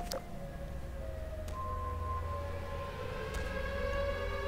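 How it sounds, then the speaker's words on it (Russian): A civil-defense-style siren in Garry's Mod wails faintly in the distance, a thin rising and falling tone drifting over a low rumbling ambient background. "Вы его слышите, сирену?"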